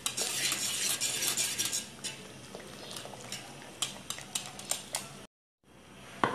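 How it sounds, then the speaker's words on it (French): A whisk clatters rapidly against a bowl while mixing flan batter for a Chadian caramel flan, a dense run of close metallic ticks and scrapes that pauses briefly near the end, with no talking. "Vous pouvez vous servir d'un fouet pour bien mélanger."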